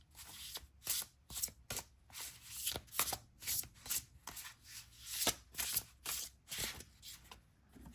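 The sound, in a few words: shuffling and drawing tarot cards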